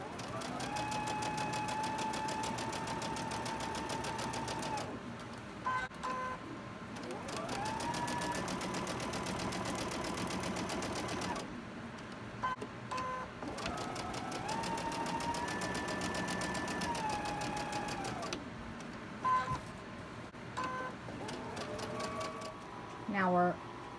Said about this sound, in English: Next, I'm going to chain stitch these also.